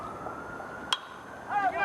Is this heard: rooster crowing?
no